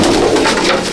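Madrasi patta pigeons coo loudly and close by in a dense, continuous rolling murmur, several birds overlapping with no pauses.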